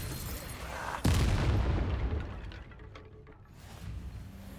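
A booming explosion from the Expulso spell in the game Hogwarts Legacy, one sudden loud blast that rumbles and fades over several seconds.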